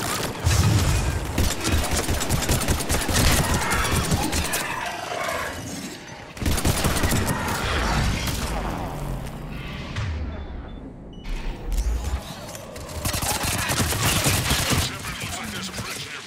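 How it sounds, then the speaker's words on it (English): Gunfire in a Mass Effect 3 firefight: rapid bursts of automatic weapon fire and single shots rattle in clusters, broken by short pauses, with occasional booms mixed in. "We're in the middle of a firefight right now."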